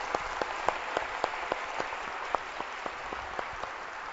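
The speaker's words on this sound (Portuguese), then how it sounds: "Uma salva de palmas para eles, né?" Audience at a forum event clapping in a thin, scattered round of applause, with distinct sharp claps over a steady patter, fairly quiet and distant, no voices over it.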